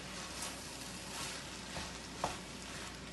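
Lobster pieces fry in a pan over low stove heat for fried rice, giving a steady soft sizzle throughout with one brief louder clink or stir partway through, no talking.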